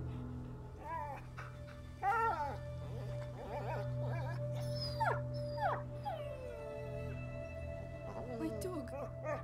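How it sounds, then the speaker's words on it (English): A dog in the video game A Plague Tale: Innocence whimpers and howls in drawn-out, wavering cries, with people speaking in between over a low ambient drone. "My dog!"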